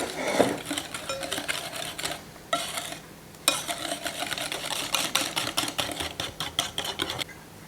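Brownie batter with eggs and flour being folded in a bowl: steady, rhythmic scraping and swishing strokes up close, with a couple of brief pauses between bursts of mixing.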